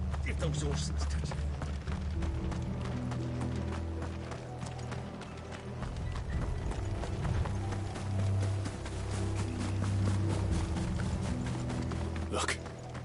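Rapid hoofbeats of horses clatter in a quick galloping rhythm under voices and a low rumbling, with brief whinny-like sounds, in the video game Final Fantasy XVI.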